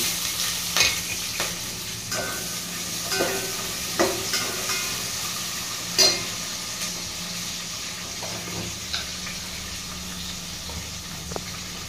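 Thinly sliced onions fry in a pan with a steady sizzle, broken by repeated scraping and stirring clunks spread through the clip, close and fairly loud with no talking.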